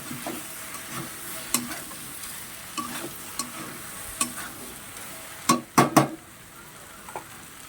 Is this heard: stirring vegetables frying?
yes